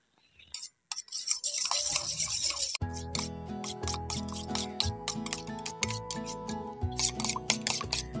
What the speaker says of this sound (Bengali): এবার আমি সমস্ত মশলাগুলিকে একসঙ্গে ভালো করে ফেটিয়ে নিচ্ছি।